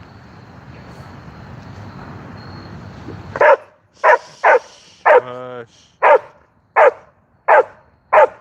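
A dog barking in a series of sharp, evenly spaced barks, about eight in all, close and loud, with one drawn-out whimpering yelp among them. A person speaks briefly before the barking.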